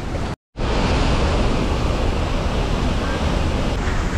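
Pressurized water gushes from a dam along the road to Kedarnath, a dense, steady roar of rushing flow and spray close by, briefly cut to silence near the start before the continuous wash resumes.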